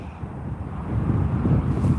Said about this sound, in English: I hope that wind's not coming in too loud, peoples. It's quite windy here, look.